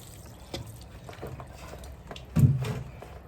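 Water from a watering can pours onto bare-root strawberry planters, a soft low splashing and trickling with a louder gush partway through, fairly quiet and with no talking.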